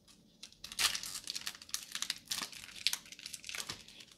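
Foil packs of 2021 Allen & Ginter trading cards torn open by hand, a close, quiet flurry of crinkling and ripping bursts with short pauses between, no speech over it.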